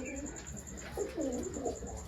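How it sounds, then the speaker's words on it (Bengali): Pigeons coo in soft, repeated low warbling calls against a steady background hum, with a faint high tone running throughout; a group of about ten pigeons, boxed for sale. "এখানে এই কিছু পায়রা আছে দশটা মতো"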